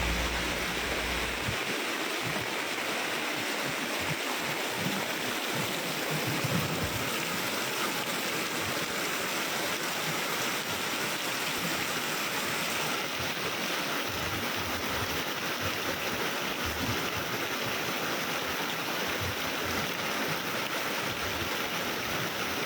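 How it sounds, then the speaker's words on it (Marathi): Heavy monsoon rain pours in Kankavli in the Konkan region, a dense, constant roar of falling water that holds steady for over twenty seconds without voices. "मोठ्या प्रमाणात हा जो पाऊस आहे तो सुरू झालेला आहे"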